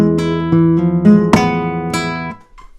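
Flamenco guitar closing a Soleá, played only with thumb and index finger: a short run of bright plucked notes and strummed chords ringing out alone, with a sharp accent near the middle before the last chord fades.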